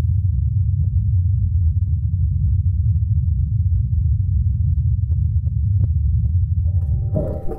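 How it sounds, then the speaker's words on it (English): Ingenuity helicopter flying on Mars, heard as a steady low droning hum from its rotors, continuous and muffled, with a few faint clicks near the end. "And this is a recording of the Ingenuity helicopter in flight."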